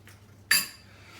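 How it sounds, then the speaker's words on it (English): One egg is cracked against a bowl while preparing corned beef: a single short, close tap with a brief bright ring, over a quiet room hum. "I'm going to crack 1 egg into this."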